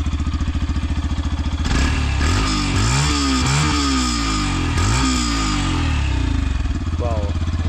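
A Yamaha FZ-S V4 motorcycle exhaust idles, then is revved several times in quick rising and falling bursts before settling back to a steady close idle; no talk is heard.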